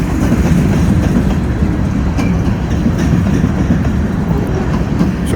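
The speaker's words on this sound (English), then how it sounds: "Hope somebody counted the cars in this train" A very long freight train rolls past close by in a loud, steady rumble with faint rhythmic clicking of wheels over rail joints.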